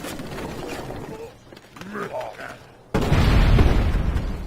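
Cannon bombardment in the Civilization V Civil War scenario: a few muffled booms amid quieter game sounds, then a sudden loud, sustained rumbling barrage of blasts from about three seconds on.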